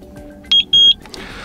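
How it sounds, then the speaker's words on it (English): A Eufy indoor camera E220 emits two clear, high-pitched electronic beeps during a factory reset: a short one, then a longer one, loud over a quiet room hum. "wait until you hear two beeps"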